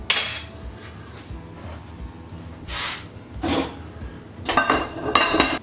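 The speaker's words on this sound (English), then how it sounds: "Give it a final stir. Put the lid on." Cowboy chili gets a final stir in a pot, followed by the lid going on, giving scattered metallic clinks and scrapes of spoon and lid against cookware, with a couple of louder clattering bursts near the end and no talking.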